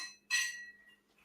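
Glass being handled while mixing a brandy and eggnog drink at home: a single bright clink that rings and fades quickly, close and clear, with no talk.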